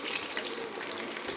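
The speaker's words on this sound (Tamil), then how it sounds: "மீன் நல்லா பொரிஞ்சிருச்சு." Fish fries in hot oil, a dense, steady hiss of sizzling bubbles heard up close and alone for a brief moment.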